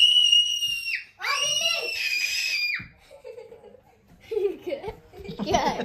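A child screams loudly at close range, a sustained shrill cry followed by a second burst, then breaks into giggling laughter and chatter from children nearby.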